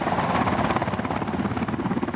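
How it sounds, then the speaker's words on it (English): U.S. and Honduran military helicopters drop supplies over flooded land after Hurricane Mitch, a loud, steady rotor thumping close by with no voices. "Both U.S. and Honduran military choppers are dropping supplies from the air."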